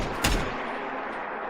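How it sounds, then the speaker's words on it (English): A single loud Fallout 4 weapon gunshot cracks sharply near the start, then a long reverberant tail decays through the rest of the moment, heard alone without voices. "you will hear the weapon sound something like this"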